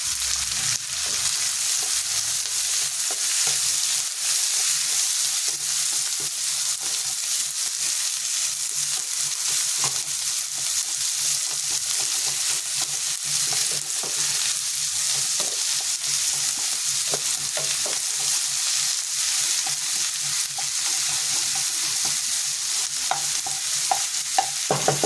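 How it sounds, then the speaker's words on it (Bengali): Chopped onions tipped into a hot pan of oil for a Bengali chorchori, sizzling and frying steadily with light stirring throughout, loud and continuous with no talking. "যে পেঁয়াজটা কুচে রেখেছি সেটাকে, এটা আমি ঢেলে দিলাম।"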